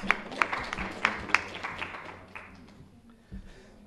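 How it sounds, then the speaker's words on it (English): A few sharp claps ring out near the start at a university debate, then fade into a low room murmur; sparse clapping rather than full applause. "A round of applause for Professor, please."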